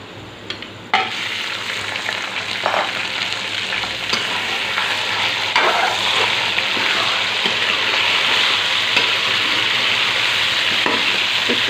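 Chicken frying in a pan of golden brown onions for an aloo chicken shorba, a steady loud sizzle and crackle with occasional stirring scrapes and splatters throughout.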